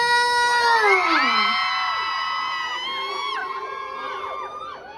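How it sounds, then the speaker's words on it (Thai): A large crowd shrieks and cheers loudly, high-pitched screams sliding and overlapping in a sustained, excited wave. "ขอเสียงกรี๊ดดังๆ"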